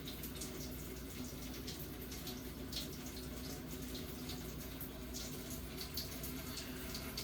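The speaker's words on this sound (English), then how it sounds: "So first off, let me say that we are cleaning our rice." Rice being rinsed under running tap water, a steady broadband splashing flow that continues without pause, fairly quiet and close, with no talking.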